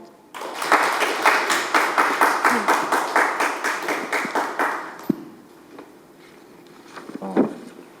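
Audience applause follows a speech at a regional political forum debate in South Jeolla, with steady rhythmic clapping from a seated crowd lasting several seconds before fading into quiet room noise and a few scattered claps.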